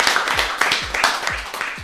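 Studio audience applause on a French radio show, a dense, steady patter of many hands clapping up close that fills the whole moment without a break.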